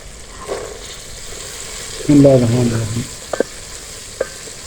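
Green peas go into hot masala in a pan for a mixed vegetable salan and are stirred and fried, making a brief burst of sizzling and scraping close by, followed by a few light clinks.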